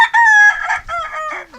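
A white rooster crows once in a loud, close call with a rising opening and a long drawn-out tail, with no one talking over it.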